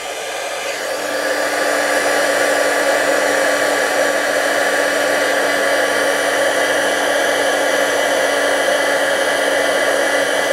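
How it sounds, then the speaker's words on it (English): An embossing heat gun blows in one continuous, loud, steady whirring rush, spinning up in the first second and then holding an even airy hum without interruption. "Let me grab my embossing gun"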